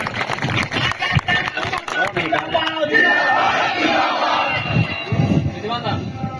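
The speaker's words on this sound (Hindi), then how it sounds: "महतो जी को जोरदार तालियों से स्वागत करें" A rally crowd greeting a political speaker with loud cheering, shouting and clapping, a dense continuous roar with voices calling out over it throughout.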